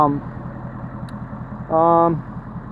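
A Ford Powerstroke 6.7 diesel pickup with a 5-inch Flo Pro exhaust idles with a steady low rumble, rising briefly into a louder, droning rev before settling back; a voice talks over it.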